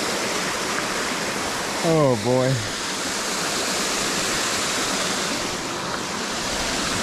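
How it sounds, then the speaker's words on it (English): A small trout creek pours over a cliff in a steady, loud rushing roar like a waterfall, continuous throughout, with a man's brief exclamation heard over it near the start. "The creek goes straight over a cliff."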